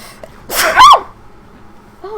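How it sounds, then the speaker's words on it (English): A single loud sneeze comes close to the mic, a sharp intake of breath and then the explosive burst. Quieter breathing and a faint vocal sound follow. "Didn't mean to sneeze on you."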